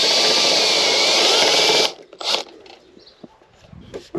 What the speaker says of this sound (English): try to drill it out.